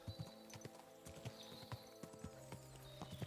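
Horse hooves clip-clopping in the video game Kingdom Come: Deliverance 2, a steady quick rhythm of close hoof strikes over a quiet tonal game ambience, with no talk.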